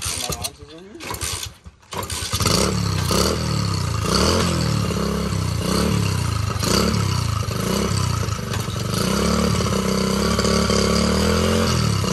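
A motorcycle launching from a stop after a brief idle, its engine rising into loud, sustained revving close by, with voices heard under the noise.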